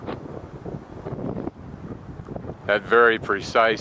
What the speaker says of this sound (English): And with the hellacious winds that they get up here, you can see what's happening up there with the wind.